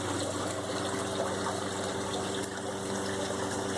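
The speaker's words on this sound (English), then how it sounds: "The water comes from my pump over to my overhead reservoir, which gravity feeds all the towers." Water pumped through an aquaponics system, flowing from the pump up to an overhead reservoir that gravity-feeds grow towers; a steady, close rushing flow with a constant pump hum underneath, no pauses.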